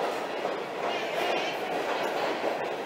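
A New York subway train rumbles along the tracks with a steady, moderately loud clatter and a faint rhythmic clicking throughout.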